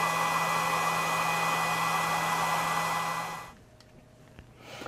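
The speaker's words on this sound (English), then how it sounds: "So you'll hear the fan running as the battery discharges." Small built-in cooling fan in a drone battery discharger whirring steadily with a constant tonal hum, close to the microphone, then cutting out and leaving quiet room noise with a few faint clicks.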